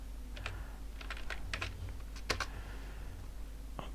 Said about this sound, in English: I need typing Russian words.